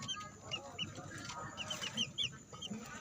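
Two three-month-old stag roosters clucking softly while being fed, with scattered short chirpy clucks over a faint background of pecking and shuffling, fairly close but quiet.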